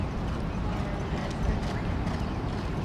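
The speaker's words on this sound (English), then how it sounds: "And both horses are moving well." Two racehorses galloping on a track near the quarter pole, rapid muffled hoofbeats under broad track noise, with faint commentary barely present.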